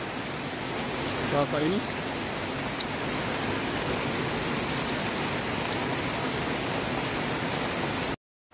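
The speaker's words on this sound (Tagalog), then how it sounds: "malakas yung ulan eh" Heavy rain falls in a steady, dense hiss, loud and constant, with a brief spoken word near the start before the sound cuts off abruptly at the end.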